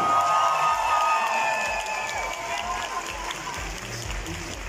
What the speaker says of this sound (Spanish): Que se escuche fuerte ese aplauso